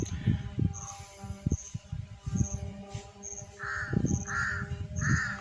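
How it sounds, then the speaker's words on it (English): Jungle crows caw repeatedly in a national park forest on an island near Port Blair, loud harsh calls in uneven bursts, some overlapping, with a faint insect-like whine and rustling in the background. "These are the local jungle crows."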